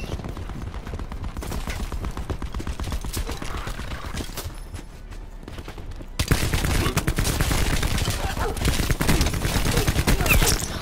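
A Death Machine rapid-fire gun in Black Ops 4 rattles out dense, continuous bursts over battle noise, growing louder and harsher toward the end.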